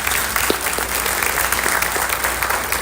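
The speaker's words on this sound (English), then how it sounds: "Big round of applause for Mr. Bargman." Audience applause at a high school 10th and 11th grade orientation, a dense steady wash of many hands clapping at close range for nearly three seconds with no talk over it.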